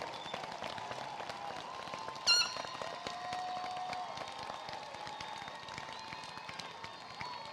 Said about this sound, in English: rise to your feet and give them a round of applause